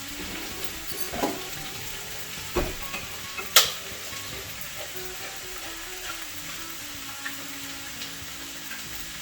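Canned fire-roasted diced tomatoes and green chilies cooking in a pan, a soft steady sizzle with a few sharp clinks and scrapes of stirring, moderately quiet and without speech.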